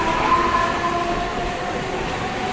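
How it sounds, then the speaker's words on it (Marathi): Inside a moving passenger train, a steady, close rumble of wheels and carriage noise carries on evenly, with faint tonal hums and no talking. "आता आम्ही बसलेलो आहोत ट्रेनमध्ये"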